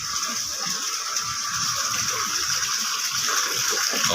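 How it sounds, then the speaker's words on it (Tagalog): Steady gushing, bubbling water from a catfish pond biofilter, a continuous close wash of splashing flow with no pauses, running alone. "ang purpose niyan kahit paano ay nakakapagpabula ng tubig yan"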